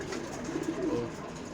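Pigeons coo softly nearby, a low throaty warble rising briefly in the middle over quiet background hum.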